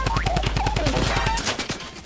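Snoop Dogg's drum gun fires in a rapid, steady burst in Fortnite, each shot punchy and close, rattling on for over a second before stopping.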